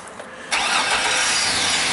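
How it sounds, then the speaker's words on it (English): A GM 4.3 V6 with a crankshaft-camshaft correlation fault cranks and catches after a brief quiet moment, then settles into a loud, steady close-up idle. "So I'm going to start it up."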